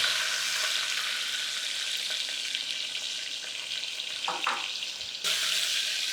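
Small shallots frying in hot oil just after mustard seeds have popped, cooking for a bottle gourd kootu; a steady, close hiss of sizzling fat runs throughout, with a few brief stirring scrapes and a short dip near the end.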